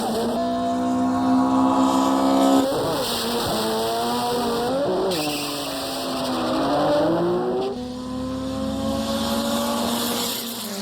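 A turbocharged drag race car running nitrous revs loudly and close, its engine tone climbing and falling in repeated sweeps with a brief shift-like break before settling into a steady, harsh drone.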